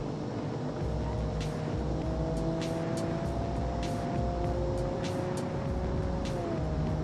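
A carbureted SUV engine from BeamNG drives along steadily at high revs, a constant drone with a rising whine as it holds the upper gears. There is no talk.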